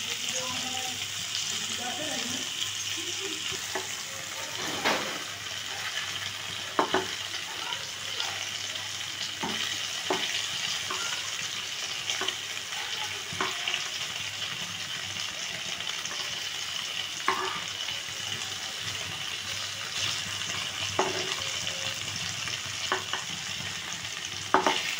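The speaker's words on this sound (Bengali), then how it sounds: "পনিরটা খুব বেশি ভাজবো না," Paneer cubes fry gently in a pan as a soft, steady sizzle with scattered crackles and occasional stirring taps, close by and moderately quiet throughout.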